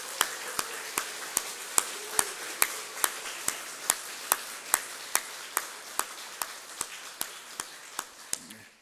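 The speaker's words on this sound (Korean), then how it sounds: "힘차게 격려의 박수로 환영하겠습니다" Steady, evenly paced clapping from a church congregation, sharp claps repeating at a regular rhythm for several seconds, fairly close and loud.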